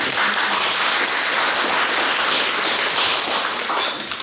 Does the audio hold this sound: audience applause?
yes